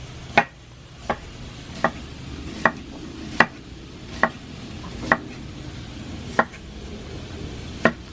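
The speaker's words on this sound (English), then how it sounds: "And we chop the red onion really, really thin." A knife slices red onion thinly on a cutting board, landing about ten sharp, evenly spaced chops close by over a quiet background with no talking.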